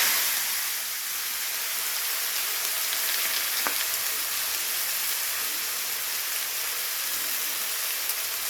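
Potatoes fry with salt in hot oil in a wok, giving a steady, bright sizzle that hisses continuously at an even level, with one brief clink partway through and no voices.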